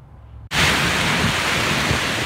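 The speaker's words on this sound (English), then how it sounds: "this hailstorm rocked downtown Denver as golf ball size hail wreaked havoc on cars and roofs" Golf-ball-size hail pounds downtown Denver in a dense, steady broadband roar that starts abruptly after a brief quieter moment and continues loud and unbroken, with no talking.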